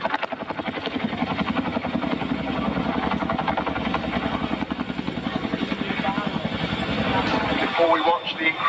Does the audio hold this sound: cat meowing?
no